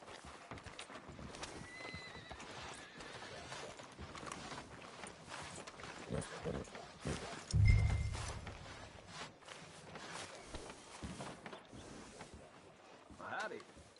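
Horse hooves clip-clop at a walking pace amid Red Dead Redemption 2 game ambience, with a horse whinnying briefly partway through and a low thump in the middle.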